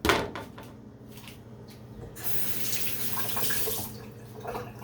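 Tap water runs and splashes as tomatoes are rinsed, starting with a few clattering knocks and drips, then a steady rushing stream for a couple of seconds before tapering off.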